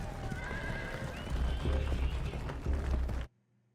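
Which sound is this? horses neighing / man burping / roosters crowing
horses neighing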